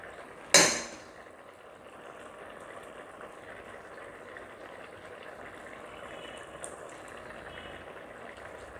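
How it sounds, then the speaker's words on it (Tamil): A pot of lentil dumpling curry (kuzhambu) at a gentle boil, a soft steady bubbling and simmer throughout, faint and close, opened by a single sharp clank near the start. "இப்போ குழம்பு நல்லா கொதிச்சிருச்சு இப்போ நம்ம உருண்டையை போடலாம்"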